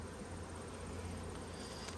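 Steady, close droning hum of honeybees buzzing during a hive inspection, continuous and even throughout with no talking.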